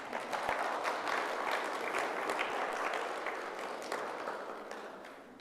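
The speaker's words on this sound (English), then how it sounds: "Round of applause, ladies and gentlemen." Audience applause at the 2022 Miss Navajo Nation pageant, a dense, steady wash of clapping from a large crowd that holds at full strength for several seconds and then eases slightly, with no talk over it.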